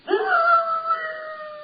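An Irish setter, three-quarter bred, lets out one long, loud howl up close that rises at the start and then holds a steady, sustained wail.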